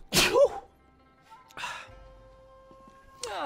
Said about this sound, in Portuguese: e um espirro